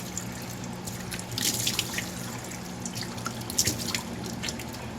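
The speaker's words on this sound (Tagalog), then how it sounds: "Pati sa leeg, binabanlawan ko." Water runs steadily from a tap into a bathroom sink during a night skincare rinse of the neck, a continuous hiss with a few brief splashes and drips.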